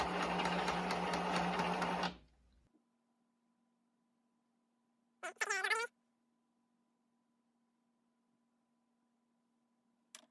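An Epson XP-340 inkjet printer checking its ink cartridges buzzes loudly for two seconds, then stops; a faint steady hum remains, broken by a brief whirring, chirping burst and a click.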